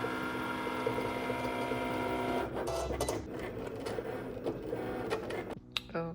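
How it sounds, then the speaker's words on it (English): An inkjet printer runs steadily as it prints butterfly designs, its mechanism whirring and clicking in a continuous, close-up stream with shifting rhythmic passes. "So I'm gonna print those out now."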